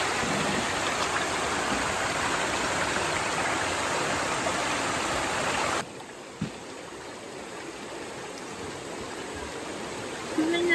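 River water flows as a steady, loud broadband rush for several seconds, then the sound abruptly drops to a quieter, more distant flow.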